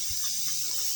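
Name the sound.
steam hissing out of pressure canner after weights lifted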